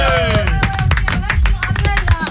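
Studio audience clapping to welcome a French rock band on the RicoShow radio broadcast at NRJ, a dense, loud burst of applause with a host's voice and music mixed over it.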